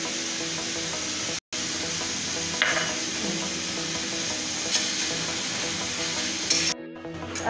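Chopped carrot frying in a pan for cheese macaroni gives off a steady, moderate sizzle with faint stirring scrapes and a brief drop partway through.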